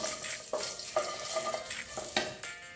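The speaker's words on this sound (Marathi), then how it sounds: "त्यानंतर 4 छोटे तुकडे मी दालचिनीचे घेतलेले आहेत आणि 2 सुक्या मिरच्या आणि इथे कढीपत्ता। आता हे थोडंसं आपल्याला फ्राय करून घ्यायचं आहे।" Four small pieces of cinnamon, two dried red chillies and curry leaves frying in a pan for Gujarati kadhi, a close, steady sizzle broken by several sharp stirring scrapes.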